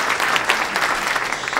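An audience at an awards gala for a movement therapy foundation applauds in a dense, continuous wash of clapping that stays loud and even for its short length.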